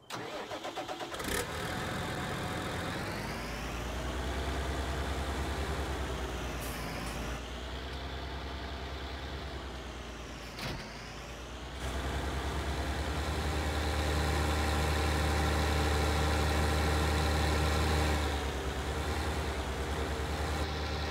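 New Holland tractor engine idling in Farming Simulator 19, a steady low mechanical drone with a starting burst near the beginning, brief gaps and clicks, and a louder, heavier rumble in the final stretch, with no talking.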